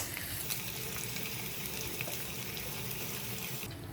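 Onions frying in a tablespoon of coconut oil in a pan, a constant bright crackling sizzle that stays even throughout, close and moderately quiet.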